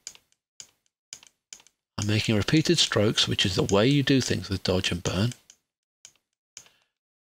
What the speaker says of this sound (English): You can probably hear my mouse clicking in the background.